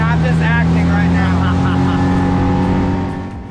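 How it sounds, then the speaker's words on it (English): A powerful boat engine roars loudly and steadily, its pitch climbing as it accelerates, with wind and water rush filling the background. "This boat felt like it went 0 to 80 in about 3 seconds."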